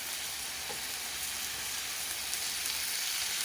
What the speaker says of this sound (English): Then you're going to throw in a little bit of butter.